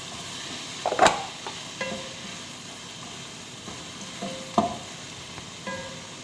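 Chicken hearts fry in a pan, a steady soft sizzle close by, punctuated by a few sharp clacks and scrapes of stirring.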